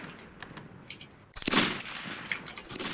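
Gunfire in a video game erupts halfway through as a sudden loud burst of rapid shots and a harsh blast, preceded by quieter ticking mechanical effects and followed by continued scattered firing.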